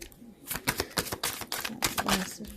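Tarot cards being shuffled by hand in a quick run of crisp, papery riffles and slaps, close and fairly loud, with brief pauses between bursts and no talking.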